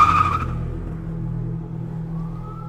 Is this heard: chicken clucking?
no